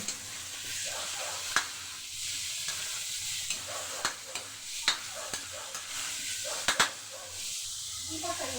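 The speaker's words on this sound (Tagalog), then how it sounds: "Sama natin sa gisa guys, yung ipi." Small shrimp and pork being sautéed in a pan for a Filipino patola and miswa soup: a constant hissing sizzle broken by repeated scraping stirs and occasional spatula clacks on the pan.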